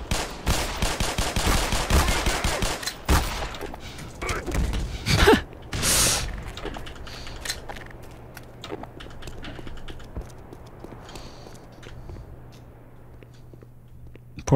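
Pistol gunfire in the Black Mesa video game, a rapid series of loud sharp shots in the first seconds, then sparser single cracks and quieter game sounds, with someone talking occasionally.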